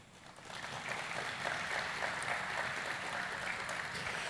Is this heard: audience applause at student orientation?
yes